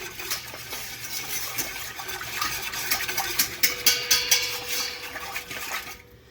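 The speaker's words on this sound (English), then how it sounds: "Now we are going to whisk that around just to get everything incorporated together" A whisk stirs brine for bread and butter pickles in a pot, making a steady scraping and clinking swirl that runs the whole time, loud and close, with a faint sloshing of liquid underneath.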